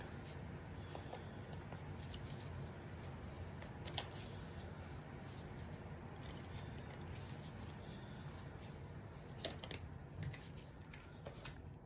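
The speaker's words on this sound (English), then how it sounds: "let's get a Light Seers Tarot card" Light Seers Tarot cards shuffle steadily and softly close by, a continuous papery riffling with occasional sharper snaps and no talking.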